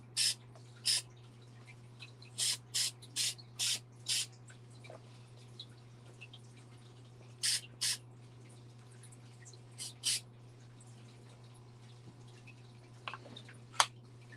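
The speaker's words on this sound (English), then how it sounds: "we're going to spray these wheels and weather them with rust." Short, sharp hissing puffs of rust weathering sprayed onto model train wheels come singly and in quick groups, close and fairly faint, over a steady low hum with no talk.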